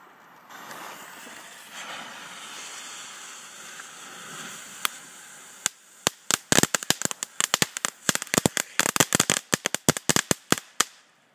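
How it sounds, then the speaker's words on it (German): Eight Flitze Feuerstein firecrackers lit together burst out of a faint hiss as a rapid, irregular string of sharp, loud bangs, some overlapping, crackling for several seconds outdoors with no talking. "Und jetzt machen wir alle Flitze Feuerstein direkt auf Schlag hier."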